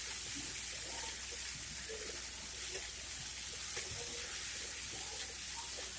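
Potato poriyal being stirred as it fries in a pan, a steady close sizzle with soft scraping and stirring movements throughout.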